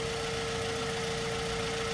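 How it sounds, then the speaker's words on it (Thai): A 2005 Mazda3 2.0 Sports engine idles evenly with a low, constant hum and a steady tonal drone, no revving or voices. "เครื่องยนต์ก็สมบูรณ์เครื่องยนต์เดินเรียบนะ"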